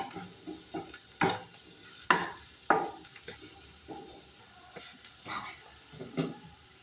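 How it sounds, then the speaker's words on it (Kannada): Turmeric and chili powder being fried and stirred in a pan produce soft sizzling broken by a series of sharp spoon scrapes and knocks at irregular intervals, fairly quiet and close with no speech. "1/2 spoon turmeric, 1 spoon chilli powder ಹಾಕೊಂಡು ಚೆನ್ನಾಗಿ ಫ್ರೈ ಮಾಡ್ಕೋಬೇಕು"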